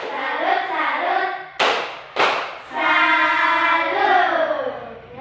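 A school class chants a sustained group salute for a student, voices rising together and broken by two sharp, loud claps near the middle before the chant resumes.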